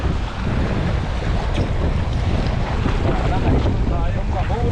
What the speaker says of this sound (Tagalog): Malakas ngayon yung hangin mga kaloko